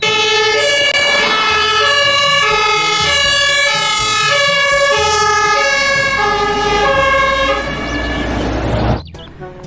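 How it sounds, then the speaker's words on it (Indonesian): A toy fire truck plays a loud, close electronic siren that rises and falls in a steady repeating pattern for several seconds before cutting off abruptly near the end. "Wow, yang ini ada mobil pemadam kebakaran."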